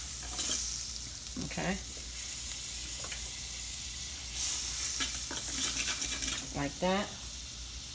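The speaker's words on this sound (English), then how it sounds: "I'm gonna use the same pan and just add a little butter to it." Butter sizzles and fries steadily in a pan previously used for cooking bacon, a continuous close hiss with a few utensil scrapes, while a voice speaks briefly over it.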